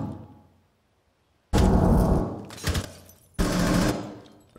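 Bursts of rapid automatic gunfire come from the tactical shooter game Rainbow Six Siege, with two loud sustained volleys after a quiet start and a short gap between them.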